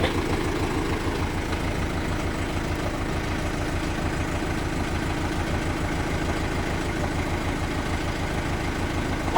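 A tractor engine runs with its PTO engaged, a steady low rumbling drone that stays close and even throughout with no talk over it.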